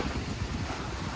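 Waves and wind buffet a sailboat at sea off the southern tip of Italy near Santa Maria di Leuca, a steady low rushing roar with microphone wind noise throughout, no voices.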